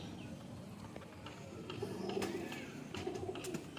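Pigeons coo softly in a loft, low repeated murmuring calls over a steady background, with brief faint clatters.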